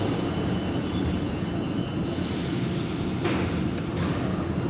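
A Warsaw metro train rumbles past continuously with a steady roar of wheels on rail and a faint brief squeal, heard alone without voices.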